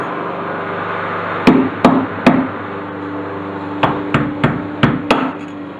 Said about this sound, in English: Little dust boot, and give it a few whacks right there.